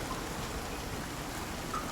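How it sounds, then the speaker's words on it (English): Steady rain falling in the survival video game Icarus, a constant dense hiss of drops spread evenly across the whole stretch with no talking. "It's actually raining here, so this should be filling up"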